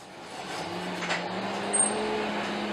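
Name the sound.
hand crank coal forge running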